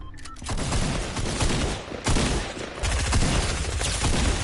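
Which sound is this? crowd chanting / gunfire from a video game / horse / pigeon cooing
gunfire from a video game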